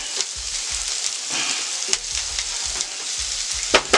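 Italian sausage, onions, peppers and sauerkraut frying in a skillet, a steady close sizzle with occasional pops and stirring clatter throughout.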